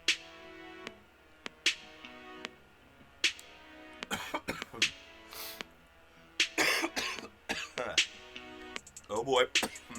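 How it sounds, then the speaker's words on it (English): Several harsh, wet coughs in bursts, growing more frequent and intense in the second half, with a few quiet clicks between them. "I have sort of this nasty cough going on"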